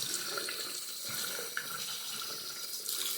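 Tap water running steadily into a sink to rinse a vacuum beard trimmer, a constant close splashing hiss with small clatters of the trimmer under the stream.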